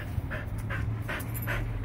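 A German Shepherd and Golden Retriever mix dog pants close by in quick, even, continuous breaths, loud and steady with no other sounds over it.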